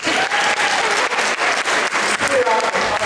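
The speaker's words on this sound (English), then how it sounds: "so give yourselves a round of applause" An audience applauds at an 8th-grade spring choir concert, giving dense, continuous clapping that stays loud for the whole stretch, with a voice faintly audible underneath.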